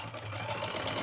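A sewing machine running steadily as it stitches a tuck into a blouse, a continuous close whirring hum with light rhythmic ticks.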